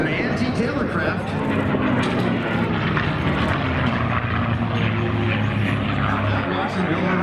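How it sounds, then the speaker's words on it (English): A P-51 Mustang propeller warbird roars overhead at the Central Coast Airfest in Santa Maria, California, a loud continuous engine drone mixed with crowd noise and a voice talking throughout. "she calls this aircraft Plum crazy"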